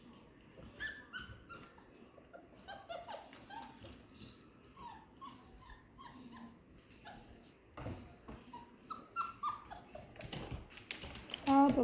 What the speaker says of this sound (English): You drink so much water.